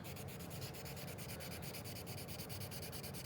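A white colored pencil burnishing a drawing makes a soft, quiet, continuous scratchy rubbing with quick regular back-and-forth strokes, close and alone.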